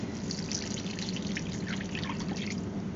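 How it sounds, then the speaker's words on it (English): Two cups of beef broth poured into a pan of flour-thickened sauce for Swedish meatballs, giving a steady, continuous liquid trickle and splash with no pauses and no talking. "we're going to add our 2 cups of the beef broth"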